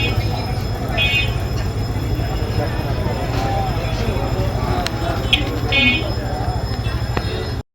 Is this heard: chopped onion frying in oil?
no